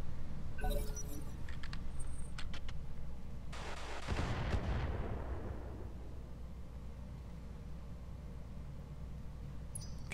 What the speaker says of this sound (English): I don't know what turret that is firing. That's the streak turret.